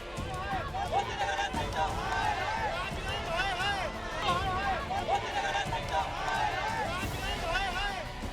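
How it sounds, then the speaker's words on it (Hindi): A crowd surrounds a police station and raises an uproar: dense, continuous shouting and agitated voices blend into a loud, unbroken roar. "भीड़ हंगामा मचा रही है।"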